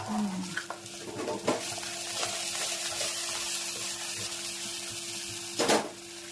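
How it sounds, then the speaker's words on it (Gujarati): Spices tempering in hot oil sizzle with a steady hiss, broken by a few sharp metallic clinks of a utensil against the pan. "સરસ મજાનો વઘાર થઈ ગયો છે."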